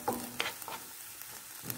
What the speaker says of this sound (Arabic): غادي نبقى نحرك البصله حتى تنزل